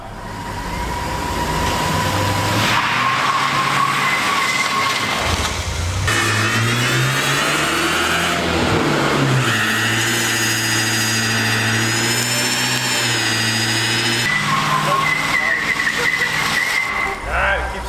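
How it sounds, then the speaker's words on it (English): A Mercedes van does a burnout, its engine revving hard and rising and falling in pitch while the tires skid and squeal loudly and continuously throughout. "I don't know how the Mercedes fancy traction control system is gonna react to me trying to do a burnout"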